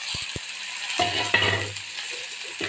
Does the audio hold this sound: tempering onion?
yes